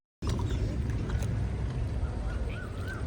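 A boat crossing the water at the Kavalam ferry in Kerala, heard as a steady low engine rumble with water noise and faint wind, loud and continuous from start to finish.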